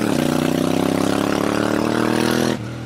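A Ducati Monster 796 motorcycle engine runs loud and close in a steady, throbbing rumble with a fast, even pulse, then cuts off sharply near the end, leaving a faint low hum.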